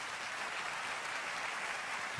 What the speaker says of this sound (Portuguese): Gostaria que vocês recebessem com aplauso.